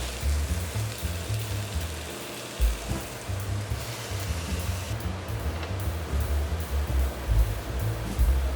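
Teriyaki chicken sizzles on a grill in a steady, dense, hissing crackle that runs continuously at close range without talk.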